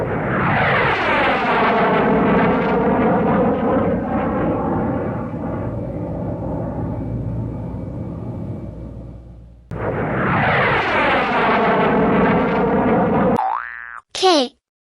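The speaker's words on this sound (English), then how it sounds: "J for jet." A jet aircraft roars in a loud, sustained whoosh that fades, then a second jet pass sweeps in, followed by a brief springy boing at the end, in a preschool alphabet lesson.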